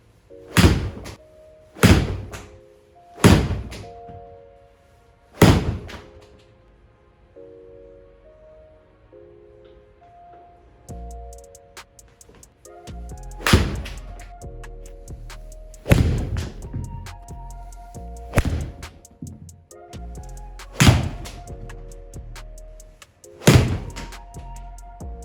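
Cheap golf balls are struck with a driver, about ten sharp, close impacts with pauses of one to three seconds between them. Faint outdoor tones fill the gaps.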